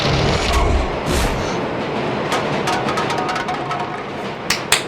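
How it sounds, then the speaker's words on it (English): A train rumbles loudly in a film soundtrack, a dense roaring wash with rhythmic clacking bursts and sharp transients building toward the end. "there's the train getting louder and louder and louder in the background."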